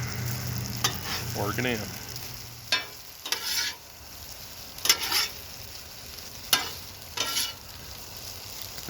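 Cheesy mushroom tortellini frying in butter on an outdoor griddle at night, steady sizzle under several sharp metal spatula scrapes and taps, close by, with a brief spoken remark.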